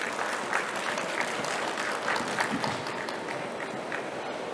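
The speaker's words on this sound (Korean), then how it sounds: "큰 박수 부탁드리겠습니다" An audience at an architecture talk at a building expo in BEXCO, Busan, applauds steadily, dense clapping at moderate volume that holds evenly for several seconds without any voices.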